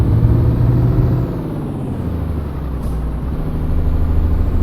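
A MAN truck with a 12-speed gearbox in Euro Truck Simulator 2 runs with a loud, steady low engine drone. The pitch dips partway through, as if shifting gear, then settles into an even rumble.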